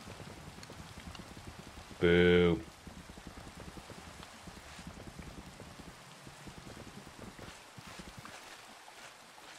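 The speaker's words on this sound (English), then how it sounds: "And of course it's raining." Rain falls in Minecraft as a soft, steady hiss of patter behind quiet game sounds, with a brief spoken interjection partway through.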